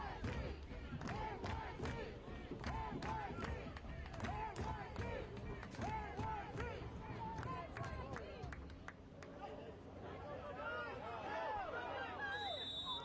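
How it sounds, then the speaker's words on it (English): A loud stadium crowd at Belsum Stadium during an MLS Next Pro soccer match between NYCFC II and Chicago Fire FC II, with continuous roaring, shouting and babble and scattered cheers throughout. "You can hear the crowd getting into it at Belsum Stadium."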